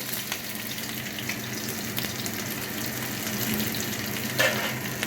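Onions frying in hot oil with cumin and a dried chilli, a steady dense sizzle close by and fairly loud throughout, swelling slightly near the end, with no talking.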